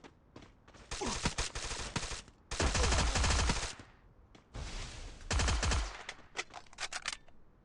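Rapid gunfire from the video game Free Fire comes in loud bursts of automatic shots, with a dense sustained volley in the middle, short pauses between bursts and scattered single shots near the end.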